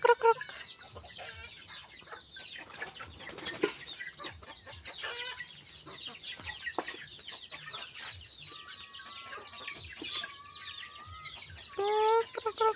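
Backyard chickens cluck and chatter steadily at close range during feeding, with overlapping calls, sharper squawks and brief rustling throughout.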